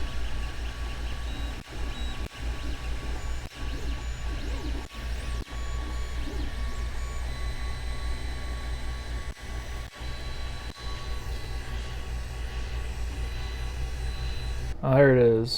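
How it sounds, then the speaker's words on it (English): A 3D printer runs a test part for a trackpad mouse project, giving a steady low mechanical drone with a faint whine and occasional small clicks throughout, close by, ending in a brief louder burst. "Here it is printing."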